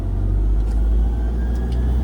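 A manual car drives along a road at low speed, a steady loud engine and road rumble from inside the cabin without a clear break for a gear change.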